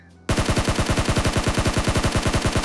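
Automatic rifle fire in PUBG on Erangel, a loud, close, sustained burst of evenly spaced shots at a fast steady rhythm, starting abruptly after a brief quiet moment.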